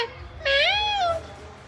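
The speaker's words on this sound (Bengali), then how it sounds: "হ্যাঁ ম্যাও আছে, আসো" A single cat gives one clear, close meow that rises and falls over about three-quarters of a second, heard alone against quiet outdoor background.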